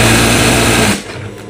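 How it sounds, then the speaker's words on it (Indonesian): A loud, close sewing machine stitches rapidly through eight stacked layers of fabric, its motor whirring steadily for about a second before cutting off abruptly into quiet. "Jadi kita akan coba tes jahit di tebal."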